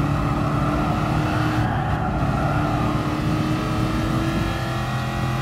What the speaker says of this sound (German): da fährt eine Corvette mit einem Skin